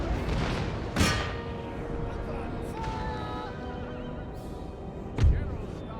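Horses whinny amid a battle in the strategy game Empire: Total War, with shrill neighs over a busy din and two heavy cannon booms near the start and end.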